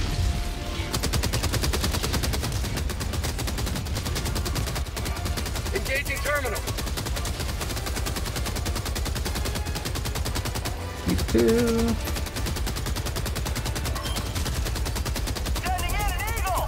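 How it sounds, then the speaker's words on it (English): Machine gun fire in Helldivers 2, a dense, continuous rattle of automatic shots that runs nearly the whole time with only a brief dip, mixed with other battle noise and occasional talk. "Gonna get my MG."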